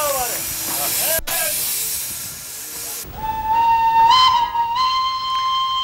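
A steam locomotive on India's toy train line departs into mist, starting with loud hissing steam and chuffs, then a long, clear whistle that rises and holds near and loud.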